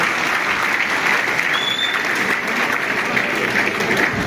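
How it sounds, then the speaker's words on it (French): An audience at a youth speech event applauds participants, a steady, even wash of many hands clapping throughout, loud and close. "On applaudit pour votre participation"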